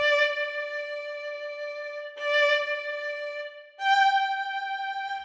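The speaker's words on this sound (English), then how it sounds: "With the plus articulations, you also get the forte piano." Three bowed string notes, each with a strong attack that drops quickly to a softer sustained tone, played alone.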